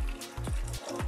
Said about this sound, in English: I'm going to add 12 ounces of water.